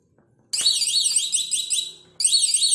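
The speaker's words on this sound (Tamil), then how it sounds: "நம்ம அலாரம் இந்த மாதிரி ஆஃப் பண்ணால் இதை வந்து ஆஃப் பண்ணிக்கோங்க" A homemade DIY door alarm blares a loud, warbling electronic siren close by, sounding for over a second, dropping out briefly, then starting again.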